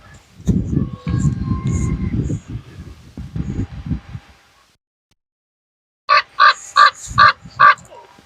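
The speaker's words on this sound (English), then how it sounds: "Crow." A crow caws four or five times in a quick, evenly spaced burst, loud and close, outdoors at an October wedding ceremony, following a stretch of people talking and then a quiet pause.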